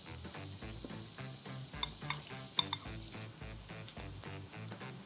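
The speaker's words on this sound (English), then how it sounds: "So it's got butter and it's got oil. And I'm gonna add a little bit more oil. Now I'm gonna add some of this rice." Rice fries in butter and oil in a pan with a steady close sizzle, while a spoon scrapes and stirs in a regular rhythm of soft knocks against the metal.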